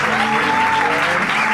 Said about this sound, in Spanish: No, pero no he dicho que dejéis de aplaudir.